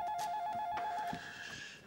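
A telephone rings with a steady electronic warbling tone, moderately close and continuous, then cuts off partway through with room noise remaining.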